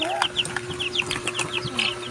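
Repeated short clucks and chirpy bird calls from a nearby chicken, with a steady hum running underneath throughout.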